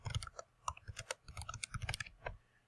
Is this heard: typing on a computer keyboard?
yes